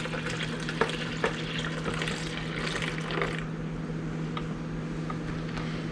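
Water being poured gently off settled potato starch, a steady, fairly quiet trickling and splashing with a couple of brief louder splashes near the start, easing off in the second half.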